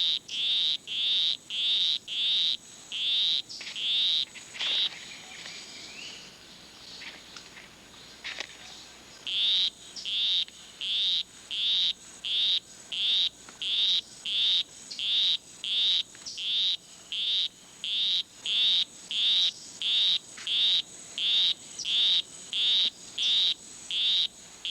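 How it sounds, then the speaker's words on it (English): A male poison arrow frog in a rainforest gives his courtship song, a long series of rapid, evenly spaced high buzzy chirps with a short pause midway. The calls are clear and fairly close against quiet forest background. "With his monotonous song, he will try to entice her to follow him under a leaf where they'll mate."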